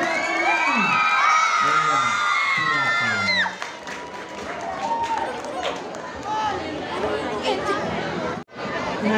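Crowd at an Indonesian Independence Day vocal group contest, a loud mix of cheering, shouting children and chatter that fills the space steadily, with a voice calling out at the start.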